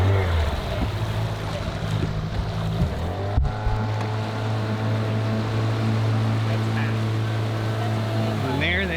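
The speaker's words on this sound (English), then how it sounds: "Yamaha outboard motor" Yamaha outboard motor on a liveaboard sailboat in France, running as a steady droning hum close by with a brief interruption partway through, wind and water noise mixed in.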